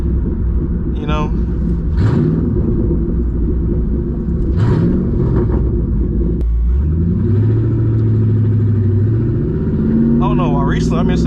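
A straight-piped 2007 Mustang GT V8 rumbles loudly from inside while driving, revs rising and falling through shifts with occasional crackling pops, as someone talks over the engine.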